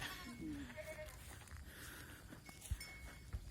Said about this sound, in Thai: นี่แหละครับคอกแพะ